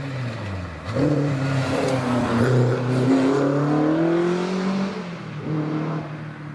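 A turbocharged Mark II Ford Escort with a Cosworth head races up the hill climb course at Prescott, its engine revving loud and close, climbing and dropping through several gear changes with no talk over it.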